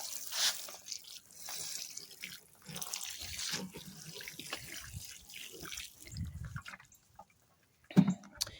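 Water pours onto freshly planted seed potatoes in a fabric grow bag of soil, a soft uneven splashing and trickling that comes and goes in bursts, fairly faint, with a brief louder splash near the end.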